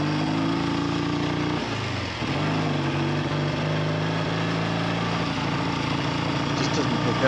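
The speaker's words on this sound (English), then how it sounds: "Hear that rattle? That's top end." A Triumph T90 motorcycle engine with a top-end rattle idles loud and close, a steady low throbbing run with a slight dip in pitch partway through and the rattle blended into the drone.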